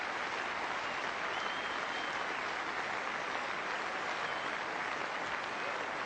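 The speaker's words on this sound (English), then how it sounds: "The big applause, players' balcony." Crowd applause at a Test cricket match between England and India, cheering a century by a batsman at his home ground, steady sustained clapping from a large crowd throughout, heard from a distance.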